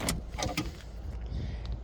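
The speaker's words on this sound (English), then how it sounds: "opening up the doors." A door opening on a 1988 Ford LTD Country Squire Crown Victoria station wagon gives a few sharp latch clicks and a clunk, followed by a quiet rustle.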